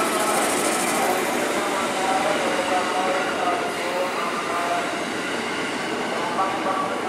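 A twelve-car KRL commuter electric train, series 74 from Angke bound for Manggarai, rolls into track 2 of a busy station with a steady rumble and metallic wheel hiss, loud and close, its tone shifting slightly as it passes.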